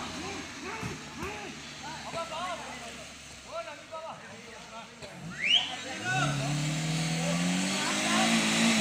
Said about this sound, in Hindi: हट जाओ हट जाओ हट जाओ, ये गाड़ी निकलेगी यहाँ से।